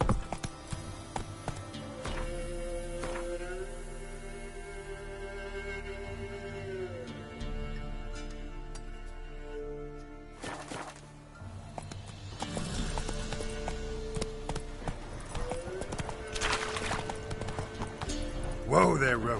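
Roach the horse in the Witcher 3 video game trotting and galloping, a continuous rhythmic clip-clop of hooves under a man's speech, with music and game sounds, the hoofbeats easing and picking up again.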